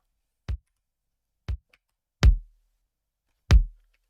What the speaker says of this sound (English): For the kick, I'm using the LM1 kick, which is the Lindrum one.